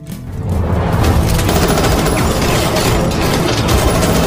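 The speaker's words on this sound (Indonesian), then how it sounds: "dan Bang Black 1 berhasil menyelamatkan neneng foto cantik ini dari tembakan" Rapid, continuous gunfire in an action film rattles loudly for several seconds, a dense barrage of shots with mechanical clatter and no pauses.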